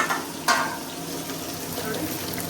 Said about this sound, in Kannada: ಆಯಿಲ್ ಬಿಸಿಯಾಗಿರೋದಕ್ಕೆ ಆನಿಯನ್ ಗ್ರೀನ್ ಚಿಲ್ಲಿನ ಹಾಕೊತಾ ಇದ್ದಾರೆ